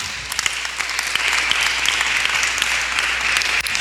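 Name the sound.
audience clapping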